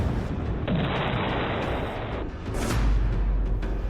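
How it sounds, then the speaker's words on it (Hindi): Missile misfire explosions in the Russia–Ukraine war, heard as a dense, sustained roar of blasts with a heavy low-end rumble that swells again near the end, loud and continuous with no talk. "मिस फायर मिसाइल से बड़ी दहशत।"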